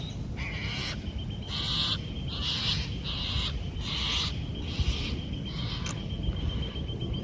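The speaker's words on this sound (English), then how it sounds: "goddamn cockatoos." Cockatoos call outdoors in a series of harsh, rhythmic screeches, repeated bursts of noisy calls over a constant background hum.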